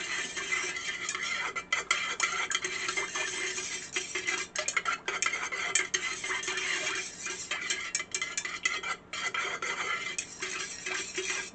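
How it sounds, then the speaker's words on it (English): A utensil stirs melted soy candle wax in a container, making steady, close scraping and ticking clicks that repeat without pause. "we're just going to stir it up"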